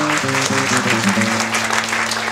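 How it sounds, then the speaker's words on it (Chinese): Loud, sustained applause fills a wedding ceremony as a crowd of guests claps together, with steady musical tones ringing underneath throughout. "感谢大家熙熙攘攘的掌声啊！"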